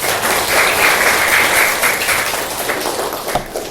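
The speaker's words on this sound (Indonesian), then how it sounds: "Tepuk tangan buat kalian semua" A school class claps together for a religious education lesson, a loud, dense burst of many hands that stays steady before thinning out toward the end.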